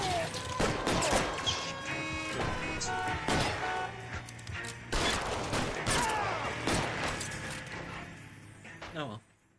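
L.A. Noire gunshots crack in a rapid, irregular volley of sharp reports, some tightly clustered and others spaced apart, over a busy game soundtrack, with people talking throughout.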